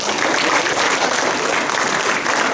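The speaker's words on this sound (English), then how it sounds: "Can we give them a round of applause?" A school house science quiz audience breaks into applause, a dense, loud, even wash of clapping that holds steady throughout with no talk over it.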